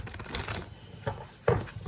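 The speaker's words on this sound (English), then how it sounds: "Alright, let me shuffle." Tarot cards being shuffled by hand, a few brief papery riffles and flicks close up in a quiet room, with a sharper burst near the end.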